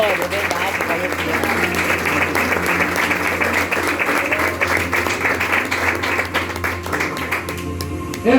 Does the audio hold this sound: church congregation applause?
yes